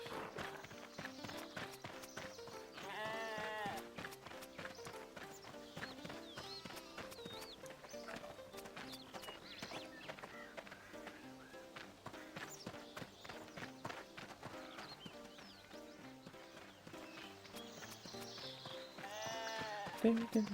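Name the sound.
sheep bleating while being sheared in RuneScape, video game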